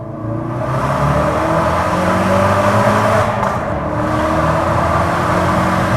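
A Ford Focus RS engine revs up steadily under acceleration in second gear from 3,000 rpm, a loud continuous rising drone with no voices.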